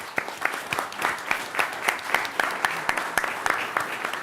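An audience at a startup demo day claps in a steady, sparse patter of distinct individual hand claps, moderately close, with no talk over it.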